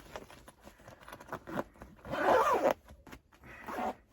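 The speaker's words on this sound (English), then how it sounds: "I'm going to zipper this back up." Zipper on a yarn bag being zipped closed, a series of close ratcheting zip strokes with soft rustling between them, the longest pull in the middle, no voices.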